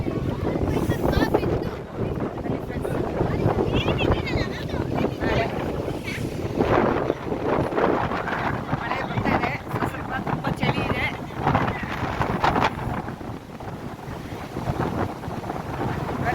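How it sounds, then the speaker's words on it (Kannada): Strong wind with rain roars and buffets the microphone steadily throughout, with voices talking faintly underneath. "ಗಾಳಿ ಮಳೆ ಜಾಸ್ತಿ"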